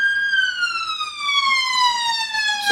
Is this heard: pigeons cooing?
no